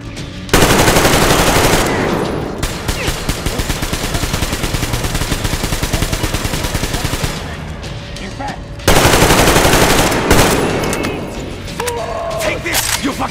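Sustained automatic gunfire in the video game Metro Exodus, loud and dense bursts of rapid shots running almost continuously, with a short break before another heavy volley and trailing clatter at the end.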